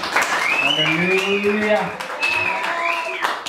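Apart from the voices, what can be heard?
congregation applause offered to Jesus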